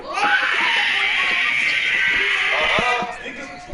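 A person lets out a loud, sustained high-pitched scream that holds for about three seconds before trailing off into softer sounds.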